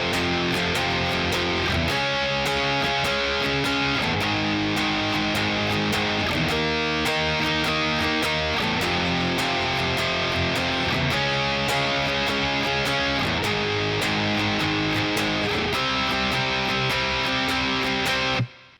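Loud distorted electric guitar power chords strummed steadily in a driving rhythm, the chorus of a song, with chord changes every couple of seconds, no voices.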